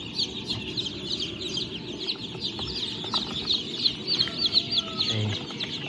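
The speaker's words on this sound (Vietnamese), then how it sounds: "Đàn gà hơi mông của em vừa mới nở này." A brood of newly hatched native H'Mong chicks peep in a dense, continuous chorus of high chirps, close by, with faint rustling underneath.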